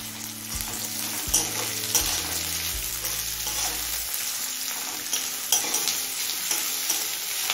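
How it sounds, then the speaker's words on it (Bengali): Chopped onion frying in a pan over medium-low flame with ginger, green chilli and garlic, a steady close sizzle with stirring scrapes and a few sharp clinks, no talk. "এখন পেঁয়াজটা হালকা লাল হয়ে আসা পর্যন্ত ভেজে নেব।"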